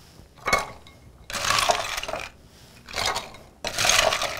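Ice cubes rattle and scrape in a mixing glass as a cocktail with vinegar is stirred, coming in three loud bursts with short pauses between them.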